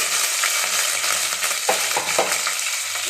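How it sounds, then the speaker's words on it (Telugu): Bay leaves, onions and green chillies fry in hot oil for egg and chicken biryani, a steady close sizzle broken by a few scraping stirs of the spoon, with no talking. "బిర్యానీ ఆకులు ఆనియన్స్ వేస్తున్నా పచ్చిమిరపకాయలు"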